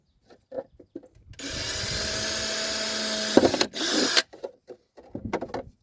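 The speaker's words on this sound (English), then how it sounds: "then you drill some holes in the bottom of this." A power drill bores a hole through the bottom of a plastic seed-starting container, one steady whirring burst of about three seconds with a short follow-up spin, surrounded by light handling clatter.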